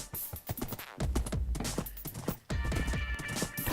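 Rhythmic hoofbeats clip-clop steadily, like a horse trotting along, with a brief pause midway before the clopping resumes.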